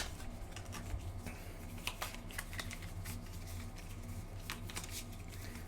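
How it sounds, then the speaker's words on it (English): A deck of cards being shuffled at a tabletop during a Legendary Encounters Alien and Predator deckbuilding game, soft repeated riffling and flicking clicks over a steady low hum, with no talk. "I forgot to shuffle your deck."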